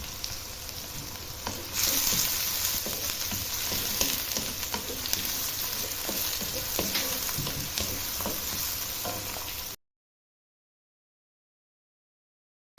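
Chopped onions sprinkled with salt fry in a pan with a loud, continuous sizzle, swelling after a quieter start and then cut off abruptly near the end, with occasional stirring clatter and no talking.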